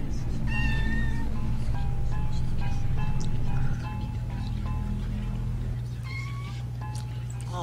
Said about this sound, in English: Hey, a cat!